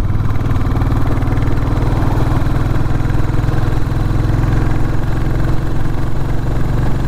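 A Royal Enfield Classic 350 motorcycle engine thrums steadily while riding at speed on a 60 mph national speed limit road, with a loud, continuous, even pulsing drone throughout.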